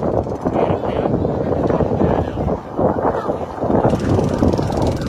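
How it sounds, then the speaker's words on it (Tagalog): Strong wind at a fire scene roars and buffets the microphone with a constant heavy rumble, loud and close, while people talk over it. "Sobrang lakas ng hangin."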